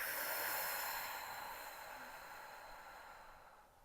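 A single long, breathy exhale during a Pilates abdominal exercise for strengthening the deep core muscles, close and airy, fading slowly over a few seconds.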